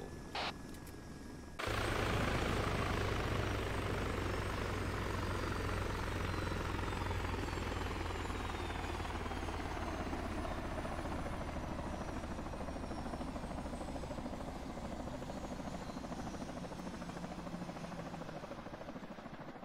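Military helicopter spooling down on the ground during a special forces field exercise, a loud close rotor and turbine roar that slowly descends in pitch and fades over many seconds.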